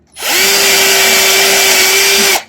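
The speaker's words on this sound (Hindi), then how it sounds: "तो कितनी जल्दी ड्रिल हो गया," Steady, loud whine from a Bosch GSB 120LI cordless drill boring through wood, starting sharply, holding one even pitch for about two seconds, then cutting off abruptly. No voices.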